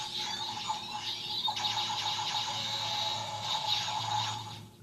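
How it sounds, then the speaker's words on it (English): A Power Rangers Dino Charge Morpher toy fires its trigger with the Tyrannosaurus charger inside, giving a bright, electronic chirping and whooshing burst through a small speaker that sweeps and warbles for a few seconds at modest volume. "that's the sound that it makes when you pull the trigger with the Tyrannosaurus in it"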